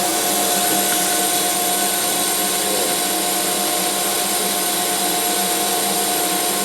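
Power saw cutting out wooden donut rings for a homemade media blasting cabinet, a continuous loud, harsh whining buzz that holds steady without pause.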